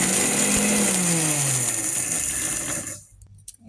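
An electric grinder whirs loudly and steadily as it powders lightly fried spices, then winds down and cuts off near the end.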